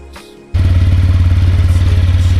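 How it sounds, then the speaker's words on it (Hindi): A motorcycle engine catches after a brief quiet moment. It settles into a loud, close, rhythmically chugging idle. "बाइक हो गई स्टार्ट"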